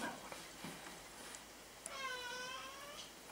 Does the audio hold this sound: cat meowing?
yes